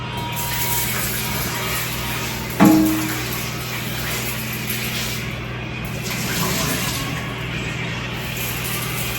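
Mahua fruits rinsed under a running tap give a steady wash of flowing water, with one sharp knock near the start and soft splashing throughout.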